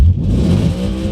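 An Audi B7 RS4 engine screams at high revs near its 8000 RPM rev limiter, a loud, close, sustained roar lasting about a second.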